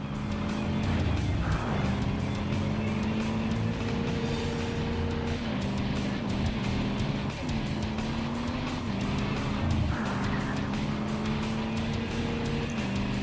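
Ford truck racing in the PS1 game Ford Truck Mania: a loud, continuous engine drone rising and falling through gear shifts, with tyre squeals and skids throughout and no voices.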